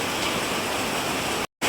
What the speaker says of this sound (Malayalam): ഞങ്ങൾ മഴ മഴ മഴ മഴ പെരുമഴ.